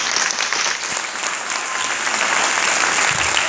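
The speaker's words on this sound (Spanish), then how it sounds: "Un aplauso grande para ti." A big round of applause from a conference audience in Spain, loud sustained clapping from many hands that holds steady throughout.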